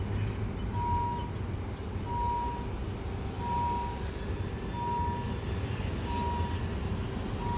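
A KIHA 183 diesel train standing at a station during a test run: a steady, loud engine idle rumble with a faint, regularly repeating tonal beep over it.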